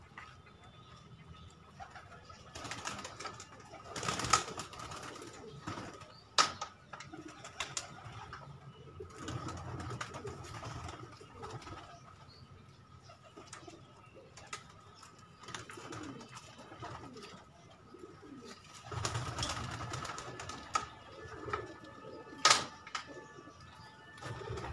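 Pigeons in a backyard loft, including blue-tailed birds, cooing softly and repeatedly over a low background, with occasional sharper rustles and taps.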